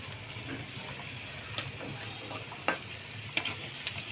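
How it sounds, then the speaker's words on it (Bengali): An egg fries in a pan on a stovetop with the heat turned up, giving a steady soft sizzle broken by a few sharp pops and crackles. "তবে চুলার আঁচটা আর একটু বাড়িয়ে দিই, যাতে ডিমটা একটু ভালো করে হতে থাক।"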